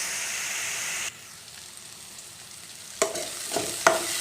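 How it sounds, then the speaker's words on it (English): Onion frying in a pan over low to medium flame, a broad sizzle that drops suddenly to a quieter hiss, followed by a few sharp scraping stirs near the end. "Keep stirring till then the onion turns to brown color."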